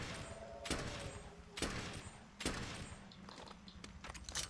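Gunshots in Monster Hunter World, with three sharp, loud blasts spaced about a second apart, each followed by a ringing tail, then quieter scattered pops under game ambience.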